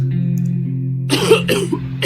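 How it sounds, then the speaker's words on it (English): A character in 60 Seconds Reatomized, the survival video game, coughs in a few harsh, rough bursts after a low steady hum, the coughs loud and close with brief pauses between them. "Ted keeps coughing and coughing."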